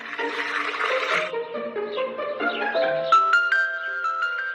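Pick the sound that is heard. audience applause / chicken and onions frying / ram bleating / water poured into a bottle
water poured into a bottle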